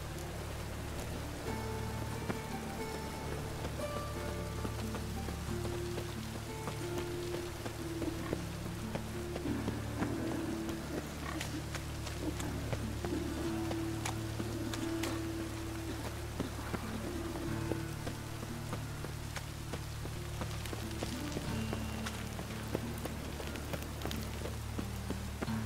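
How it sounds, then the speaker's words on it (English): Steady rain falls in The Witcher 3, a continuous patter and hiss on surfaces with low background ambience and faint game sounds throughout. "Rain again."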